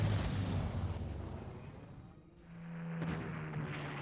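Enemy artillery fire in the Panzer Corps strategy video game, a deep rumbling boom that slowly decays, followed by a fainter second report and a sustained low tone.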